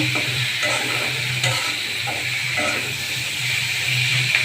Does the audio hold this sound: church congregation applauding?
no